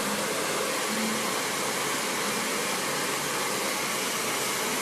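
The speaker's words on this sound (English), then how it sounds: "And see how she's angling the blow dryer?" Close, constant whoosh of a hair dryer blowing during a blow-dry with a brush, an unbroken even rush of air with no voices over it.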